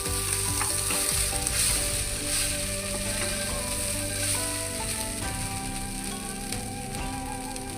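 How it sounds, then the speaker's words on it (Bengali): Cumin seeds frying in hot oil in a pan while being mixed, a loud, steady sizzle with rhythmic scraping and rattling of a spatula, close up and continuous, no voices. "এখন দিয়ে দিব জিরা। ভালো করে এখন একটু মিশিয়ে দিয়ে নিব।"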